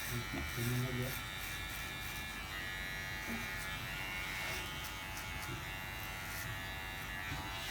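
Electric hair clipper with a number 3 guard buzzing steadily while cutting hair for a tall tapered Thai haircut, running continuously under a man's speech.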